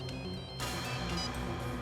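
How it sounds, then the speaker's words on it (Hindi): A mobile phone ringtone plays at a steady, moderate level through a TV crime-drama scene, with its tone growing fuller partway through and no talk over it. "लगता है उसका फोन आ गया"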